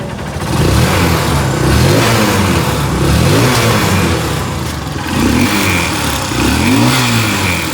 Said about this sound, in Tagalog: subukan natin siyang paandarin kung ganun pa rin, kung palyado pa rin yung kanyang makina or nagbabaldag pa rin yung kanyang andar